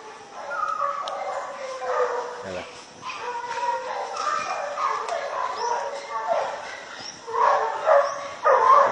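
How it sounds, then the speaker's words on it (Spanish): Hunting dogs give chase after a paca (guagua) in rough outdoor terrain, with repeated yips, whimpers and excited barking rising and falling through the clip, several dogs at middle distance, while someone talks over them. "Los perros en perseguida, vea."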